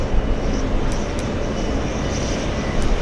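A Delta Airlines airplane at JFK airport gives off a loud, steady broadband jet roar, continuous and close.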